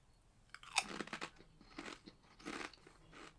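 Estrella bacon potato chips crunched in close bites, several crisp crunching bursts in quick succession, loud and near with no talking.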